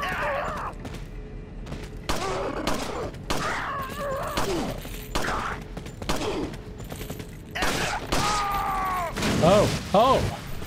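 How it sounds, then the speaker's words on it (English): Shotgun blasts and game combat noise from Resident Evil 4, several sharp bursts spaced through the stretch amid groans and clatter, with someone talking over much of it. "My fault for using the damned shotgun."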